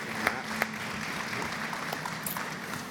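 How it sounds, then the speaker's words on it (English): An audience at a security conference in London applauds a speaker taking the stage, with a continuous patter of clapping and a couple of sharper claps. "Big round of applause for Matt."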